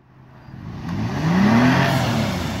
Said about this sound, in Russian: Андрюха, не газуй!